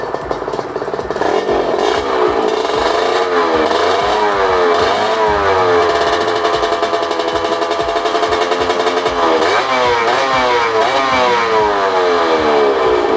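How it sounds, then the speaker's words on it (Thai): Honda NSR150SP two-stroke motorcycle engine revved repeatedly, close and loud, rising and falling in pitch with a rough clattering idle between blips. "มาฟังเสียงเบิ้ลรอบกันดีกว่า"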